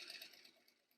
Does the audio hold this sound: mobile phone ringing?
no